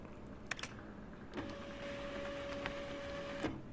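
A printer hums steadily in the video game Life Is Strange, a faint mechanical tone holding for about two seconds after a couple of soft clicks, with low background noise throughout.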